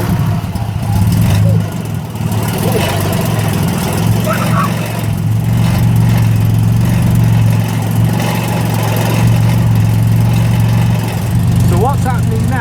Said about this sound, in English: the exhaust is getting hotter, obviously, as the engine's running